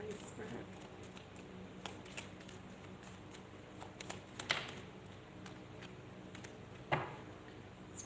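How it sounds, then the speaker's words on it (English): Tarot cards being shuffled by hand, producing soft, irregular riffling and slapping bursts with a few sharper snaps, fairly quiet over a low room hum. "And we'll shuffle the tarot for Elaine, please, Spirit."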